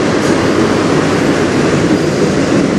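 A CN freight train passing close on the Strathroy Subdivision, a loud, steady rumble of railcars rolling by with continuous wheel noise and no break.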